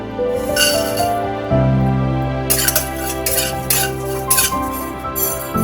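Seeds being roasted in a pan for homemade baby cereal are stirred with a utensil, giving repeated close scraping and clinking against the pan over a steady background hum.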